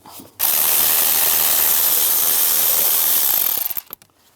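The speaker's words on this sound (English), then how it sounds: "I need to take this screw out right here, use a 7mm socket." A ratchet with a 7mm socket backing out a screw on a 2010-2017 Chevrolet Equinox during fog light wiring work; one loud, close, continuous burst of rapid clicking lasting about three seconds, then tapering off.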